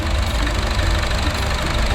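A pre-warmed Chevrolet Trax (The New Trax) engine runs steadily with a dense, even mechanical rumble, loud and close under the open hood, with no speech.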